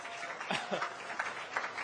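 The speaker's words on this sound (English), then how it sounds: "let's give these guys a round of applause" Applause from a seated summit audience greeting panel guests at a Republican leadership event in New Hampshire, a soft, steady patter of many hands heard from a distance at low volume.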